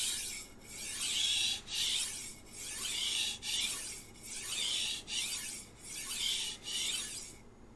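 A knife edge is stroked back and forth across a hard sharpening stone with little slurry, giving about seven close, steady rasping strokes in an even rhythm with no talking.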